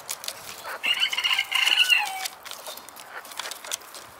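Hens from a 2019 flock cluck and vocalise in a couple of bursts of moderately close, chattering calls, trailing off into quieter background sounds, with no talking.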